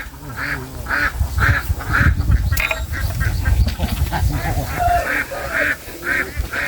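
Ducks quack loudly and repeatedly in a rapid, rhythmic series close by, with faint background voices and some low rumble underneath.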